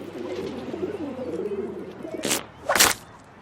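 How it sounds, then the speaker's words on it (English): Pigeons coo in a soft, rolling burble for a couple of seconds, close by, followed by two sharp bursts of flapping wings near the end. "Pigeons are tough to get rid of."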